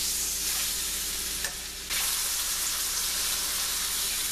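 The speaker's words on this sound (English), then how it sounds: "I think it's about time to flip over the steak now." Steak for chicken fried steak sizzling and frying loudly in a pan, a dense steady hiss with a brief dip and bump partway through as it is flipped, no talk.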